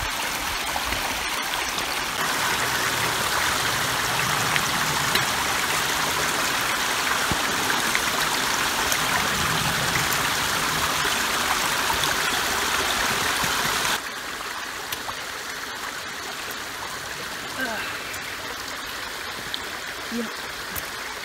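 A small creek flows steadily about half a mile from Stover Creek on the Appalachian Trail, a constant close rushing babble that drops to a softer, quieter flow partway through.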